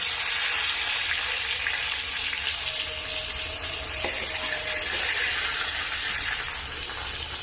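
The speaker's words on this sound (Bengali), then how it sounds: "বেগুনগুলো আমি দুটো দুটো করে দিয়ে ভেজে নেব।" Eggplant slices fry in oil in a continuous loud sizzle that stays close and even throughout, with a faint thin tone briefly riding over it.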